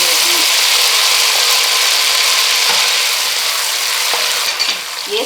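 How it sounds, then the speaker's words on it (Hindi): Masala sizzling in a pan over a slow flame while butter chicken gravy is being cooked, a steady loud fizzing hiss throughout with a few light clicks and stirring knocks near the end. "ये स्लो फ्लेम पे मैं पका रही हूँ।"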